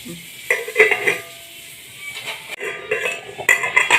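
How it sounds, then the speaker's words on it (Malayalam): A spoon stirs a pot of bubbling elephant yam curry with roasted coconut, clinking and scraping against the metal in uneven bursts over a soft simmering sizzle, close and without talk. "ഇപ്പൊ കറി നന്നായിട്ട് തിളച്ചിട്ടുണ്ട്"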